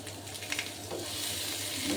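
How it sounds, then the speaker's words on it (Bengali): Capsicum and onion petals fry in hot oil with a pinch of turmeric, a steady, dense sizzle that holds evenly throughout, close and fairly loud, with faint stirring. "ক্যাপসিকামগুলো ভেজে নিচ্ছি আর পেঁয়াজের পাপড়িগুলিও ভেজে নিচ্ছি"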